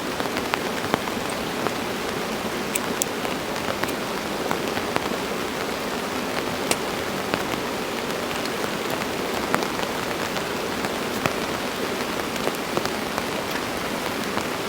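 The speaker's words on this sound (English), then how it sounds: "All I can hear is heavy rain." Heavy rain drumming on a tunnel tent during a camping trip, a dense continuous hiss with scattered sharper drop hits, steady and close with no talk.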